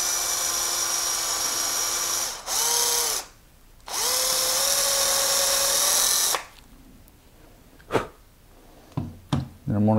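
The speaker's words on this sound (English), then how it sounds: "So I'm going to take a 3/32 drill bit and just drill a pilot hole." A power drill fitted with a 3/32 drill bit bores a pilot hole for a removable balcony hand rail, whining loudly in two sustained bursts with a short pause between them, then stopping, followed by a few knocks and brief handling noises.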